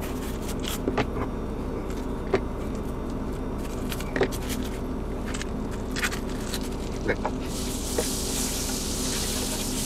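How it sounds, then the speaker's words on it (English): Butter melts and fries in a pan with a steady sizzle, broken by faint crackles and pops. "We're gonna melt that butter."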